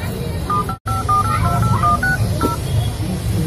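Telephone keypad tones, a quick run of about ten short beeps of varying pitch as a number is punched in, clear over steady room background with a brief dropout.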